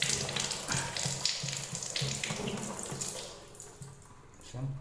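Water flowing from a Jaguar concealed flush tank after its valve is opened, a soft steady rush with faint rhythmic pulses, quiet and close, fading slightly toward the end.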